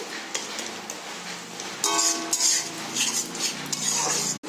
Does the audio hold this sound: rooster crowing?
no